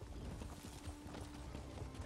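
Horse hooves clip-clopping at a steady gallop in Elder Scrolls Online, a rapid continuous patter sitting under a constant hum of game ambience with no talk.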